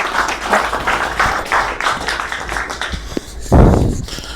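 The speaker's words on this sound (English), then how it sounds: "Another round of applause for Tal." Audience applause at a tech demo night, sparse uneven clapping that rises and falls at moderate level, ending with a louder burst near the close.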